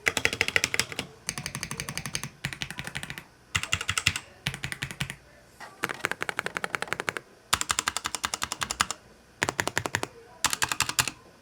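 Rapid clacky keystrokes from a Red Dragon mechanical keyboard come in repeated bursts of fast typing, loud and close, separated by short pauses.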